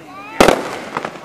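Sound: fireworks exploding at a fireworks show

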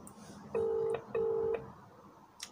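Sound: phone call ringing tone

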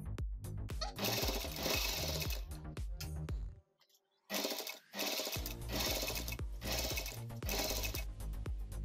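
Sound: sewing machine stitching elastic on fabric face mask

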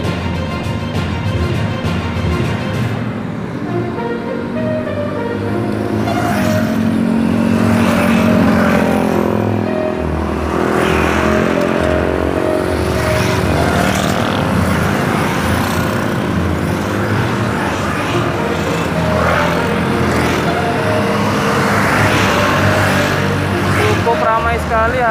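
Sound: busy road traffic at the Dome intersection

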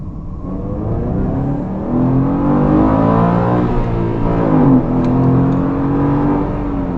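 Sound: Subaru Impreza 2.0 accelerating through a corner

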